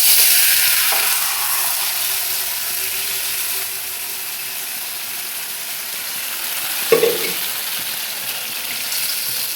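Meat sizzling in a pan throughout, a loud steady hiss with fine crackling and a brief clatter of stirring near the end, with no talking.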